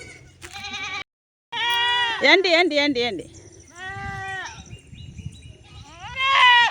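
Several goat kids bleat loudly in short, wavering cries, one after another, while a woman repeatedly calls out to them nearby.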